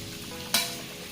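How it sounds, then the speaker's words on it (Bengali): Fried jackfruit and potato chunks stirred into cooked-down spice masala in a pan, a low steady sizzle broken by one sharp scrape of the spoon partway through. "এবারে আলু এঁচোর সমস্ত মশলার সঙ্গে মিশিয়ে নিচ্ছি"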